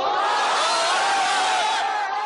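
A large, vocal crowd of supporters in Mosul cheers and shouts together, a dense, loud, sustained roar of many voices close by.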